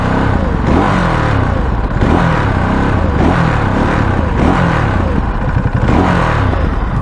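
A Ducati Monster's engine and stock exhaust rev repeatedly, loud and close, each blip climbing and falling in a rhythmic series of throaty pulses with mechanical clatter.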